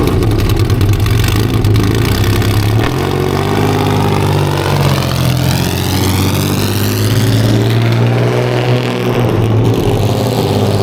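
Race car engine rumbling loudly nearby, holding a rough idle and then revving up in a rising sweep before easing back, with no talk over it.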